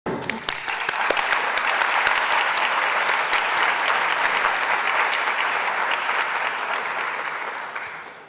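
Large audience at a career and technical education student awards ceremony applauding the honorees, a loud, dense wash of clapping that holds steady for several seconds before tapering off.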